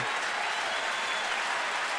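Baseball stadium crowd of thousands applauding and cheering at a night game, a dense continuous wash of clapping and crowd noise at steady volume throughout.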